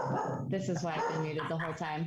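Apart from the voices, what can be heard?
dog barking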